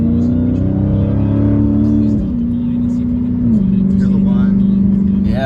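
Dodge Challenger SRT Redeye accelerating with its supercharger whining: a loud, close engine drone that steps down in pitch at each gear shift, with a thin high whine riding on top.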